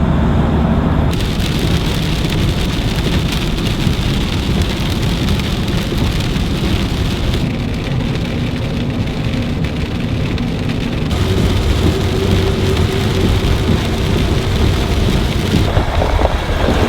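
Heavy rain pours down steadily during a road trip in Serbia, with thunder rumbling through the loud, continuous downpour and no voices.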